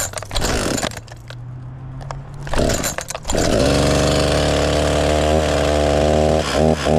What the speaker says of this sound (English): I need the chainsaw for here. All right, so we're just gonna cut this opening out.